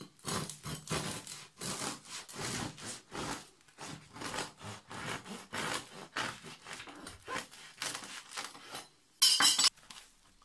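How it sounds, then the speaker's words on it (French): Crisp crackling and crunching in repeated strokes as a crusty Altamura loaf is sawed through with a knife, close up, ending with a sharper brief rustle. "Écoutez le bruit du pain."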